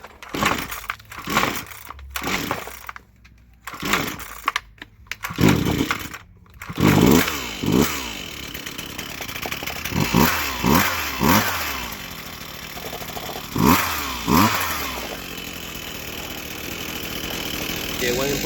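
A Husqvarna 329L string trimmer is pull-started with several cord yanks before its small two-stroke engine catches. It then buzzes and revs in repeated loud bursts, close to the listener, with a voice speaking briefly between pulls.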